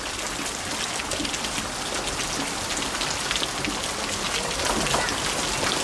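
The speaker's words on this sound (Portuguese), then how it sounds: "Há chuva demais para a terra absorver, então ela desce por sulcos e riachos." Heavy rain pours down in a steady, dense hiss of countless drops, loud and close, unbroken for the whole stretch, with no voices.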